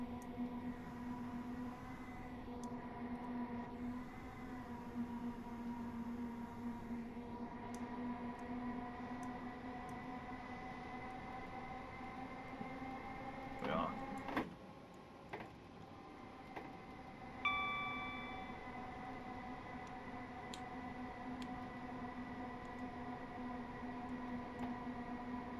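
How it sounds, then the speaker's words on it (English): A 4-car train climbs uphill in Train Simulator on the Sutton to St Albans City route, giving a quiet, steady tonal motor hum with layered harmonics, broken midway by a brief click and a short electronic tone. "So we are only driving a 4-car train"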